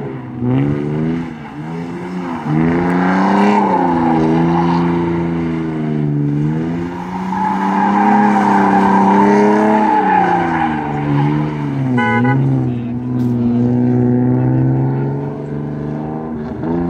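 A car skidding through figure eights, tires squealing in long sustained wavering tones over a revving engine, loud and close with no talk.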